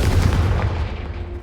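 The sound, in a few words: Confringo blasting curse explosion in the video game Hogwarts Legacy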